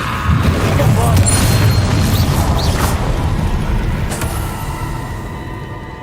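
Bombarda explosion spell in Hogwarts Legacy, heavy booming blasts and rumbling game effects that fill the mix, with a voice speaking over them.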